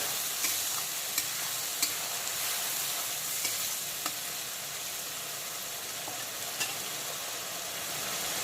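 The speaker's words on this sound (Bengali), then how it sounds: "পেঁয়াজের পেস্টটা যতক্ষণে হালকা বাদামি কালার করে ভাজা হচ্ছে" Coarse onion paste fries in oil toward light brown, making a soft, steady sizzle punctuated by occasional light stirring clicks.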